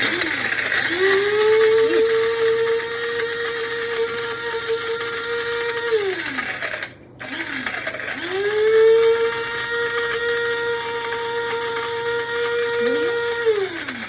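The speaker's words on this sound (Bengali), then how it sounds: "দারচিনি ব্লেন্ড করার জন্য কিনে আনছি" Electric 300-watt blender grinding cinnamon, running in two long whining bursts with a short pause between, loud and close, its motor pitch rising and steadying each time.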